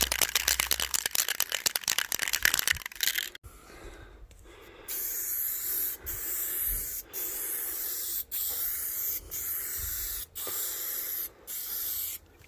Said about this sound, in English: then spray light coats